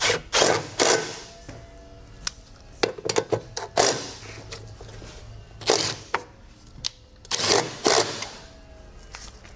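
Bolts being tightened on a Tesla Model 3 battery pack during a swap, with repeated short mechanical bursts and clicks in quick irregular runs, close and fairly loud, like a power tool or ratchet working in spurts.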